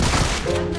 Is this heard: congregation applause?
no